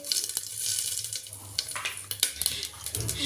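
Panch phoron spices hitting hot oil in a pan, producing a crackly, spitting sizzle with scattered sharp pops, close and moderately loud, with no talking.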